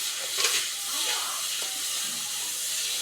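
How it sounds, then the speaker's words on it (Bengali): Spice paste frying in oil in a pan, a steady soft hiss and sizzle with faint stirring, a voice speaking briefly at the start. "মশলাটা কষার জন্য"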